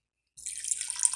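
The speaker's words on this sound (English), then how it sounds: "I am going to pour the whole container in here." Liquid from a container pours into a pot of jambalaya, a brief splashing gush that starts abruptly after a moment of silence and carries on steadily and close.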